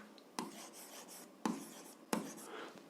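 Pen writing by hand during an algebra lesson, with soft scratchy strokes broken by three sharp taps or clicks, close and fairly quiet, with no talking.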